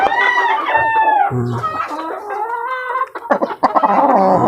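Hens clucking and murmuring up close with their chicks following, giving warbling, gargling calls and a few sharper cackles near the end.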